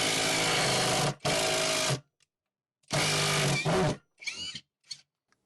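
A Greenworks 24V cordless drill with a Phillips bit drives a screw into wood with no pilot hole. Two long, loud whirring runs come with brief pauses, and then short bursts follow as the screw seats, close up.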